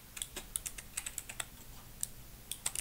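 Name being typed on a computer keyboard, a quick run of light, close key clicks with short pauses, alone with no voices.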